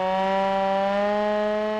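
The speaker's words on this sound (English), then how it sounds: "Outside the summit, an air raid siren." A steady, wailing air raid siren with strong harmonics holds at a constant pitch throughout, loud and close, with no voices, sounded at a 2003 anti-war protest outside a summit.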